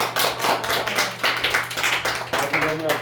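A lecture audience at an outreach camp near Seoraksan applauds after a speech, a close, continuous patter of hand claps with uneven pulses that lasts the whole stretch.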